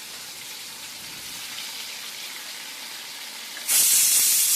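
Fish and prawns frying in oil in a pan, a steady hiss of sizzling that jumps to a louder, brighter crackle near the end, with no talking over it.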